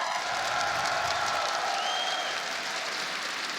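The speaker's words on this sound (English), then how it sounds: "I think that deserves a round of applause for Benjamaster." A crowd applauds steadily at a Rainbow Six Siege esports grand final, dense clapping filling the space at an even, sustained level throughout.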